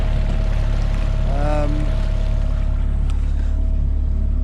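A Shetland 535 boat's engine cruises steadily on a river at about 4 mph, a constant low drone that runs unbroken throughout, with a brief tonal whine rising briefly near the middle.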